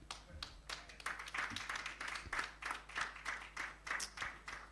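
Conference audience at a Tech Convergence event clapping steadily, a moderate scatter of hands applauding in an indoor hall, sustained for several seconds at fairly low level.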